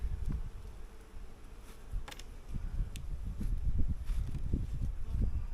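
Low, fluttering buzz of many bees close by at a hive during inspection, rising and falling irregularly over a soft background hiss.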